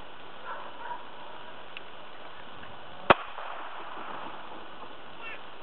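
A single sharp, loud crack from an unsuppressed .22 pistol fired at a polycarbonate sheet, one isolated shot standing out against quiet background.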